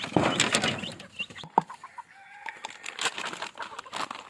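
Young backyard stags cluck and crow in a loose, irregular series, some calls sharp and close, others fainter, with scattered rustling between them.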